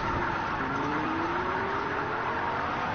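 A car drifting, its engine a loud, steady roar for the whole stretch with a whining tone that climbs gradually in pitch, close and continuous with no talk.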